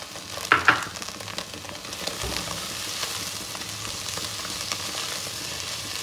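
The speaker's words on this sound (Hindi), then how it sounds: "तो अब हम इसके अंदर प्याज डालेंगे" Chicken and onions frying together in a pan, a steady soft sizzle running throughout with a couple of brief louder clatters near the start as the onions go in, with no talking.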